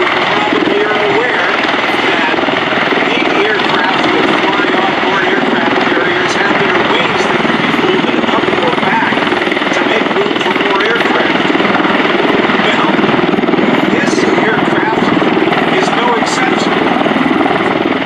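An MV-22 Osprey tiltrotor performs a demonstration at the 2024 MCAS Cherry Point air show, giving a loud, continuous rotor roar that fills the whole stretch while an announcer talks over it.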